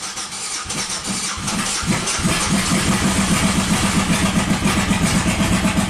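A 1997 Buick 3100 V6 running on only one cylinder, cranking and catching into a rough, loud, uneven idle with a lumpy pulsing beat, close up and without talk.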